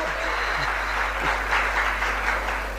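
An audience applauds in a hall during a Ramkatha discourse in Indore, with steady, moderately loud clapping that continues throughout.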